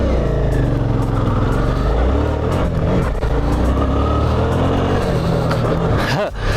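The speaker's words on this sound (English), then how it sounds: "I short shifted first gear, tried to shift into, or did shift into second gear and pinned it completely wide open." Suzuki V-Strom adventure motorcycle on Dunlop TrailMax Mission tires, short-shifting from first into second gear and then pinned wide open; loud, steady engine roar with wind noise close to the rider, a brief dip near the end.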